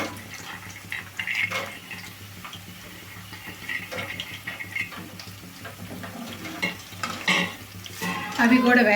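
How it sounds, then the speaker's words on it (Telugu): Green chillies, cashews and peanuts fry in a pan, making a soft, moderate sizzle with intermittent stirring scrapes and light taps close by, and a brief louder rattle at the end; no talk. "పచ్చిమిరపకాయలు ఇట్లా వేయించుకోవాలండి ఇట్లా పచ్చిమిరపకాయలు ఒక సెకండ్ పార్ట్ ఇట్లా వేయించుకున్న తర్వాత జీడిపప్పు శనగెత్తనాలు కూడా అండి"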